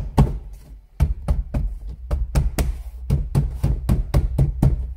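A car door card being pressed onto a 2012 Hyundai i40 door panel, a series of about a dozen dull thumping knocks from hand presses, irregularly spaced and close.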